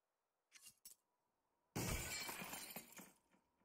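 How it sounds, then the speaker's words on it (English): Glass breaks in CS:GO on the Nuke map during a competitive match, a sudden bright crash with scattering shards that trails off over about two seconds, after a couple of soft taps in near silence. "They hear the glass break"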